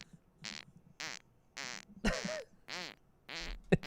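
Fart sound effect played back as a test, a rhythmic series of about eight short buzzy bursts with pauses between them, fairly quiet, with a louder sputter in the middle and at the end.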